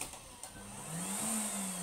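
A Samsung CyclonePower 2200w vacuum cleaner, worn and abused, hums close by, its motor pitch rising as the speed control is turned up, steady and alone.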